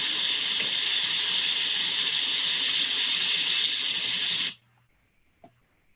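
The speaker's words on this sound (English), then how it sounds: "there's this sound of rushing water from a kayaking video" Loud, steady rushing water from a kayaking trip hisses continuously for about four and a half seconds, then cuts off abruptly into near silence.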